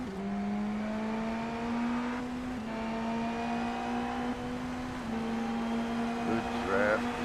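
An IndyNXT open-wheel race car engine heard from the cockpit in the iRacing sim, a steady high-revving whine that shifts pitch slightly at gear changes, continuous and close.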